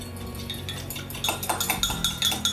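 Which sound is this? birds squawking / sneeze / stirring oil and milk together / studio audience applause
stirring oil and milk together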